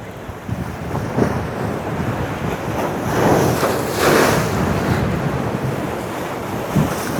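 Surf breaking along the Adelaide coastline during a fishing session, a steady wash of waves rising into a louder crash near the middle, with wind buffeting the microphone throughout.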